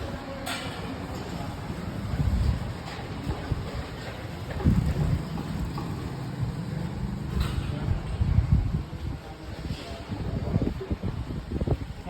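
Wind blows outdoors in gusty surges, a rough low rumbling with buffeting against the microphone that swells and fades several times, while faint voices talk in the background.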